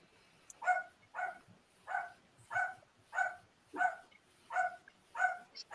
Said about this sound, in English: Can hear his dog.